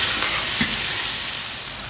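Onion paste sizzles and fries in hot oil in a pan while being stirred, a steady close hiss with a couple of soft scraping strokes.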